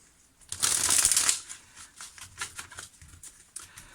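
Tarot cards are shuffled close by in a dense riffle burst, followed by lighter, intermittent flicks and pats of the cards settling.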